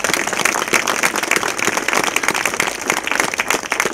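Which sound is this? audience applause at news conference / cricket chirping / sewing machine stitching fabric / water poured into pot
audience applause at news conference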